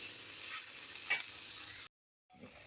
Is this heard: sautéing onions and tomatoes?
yes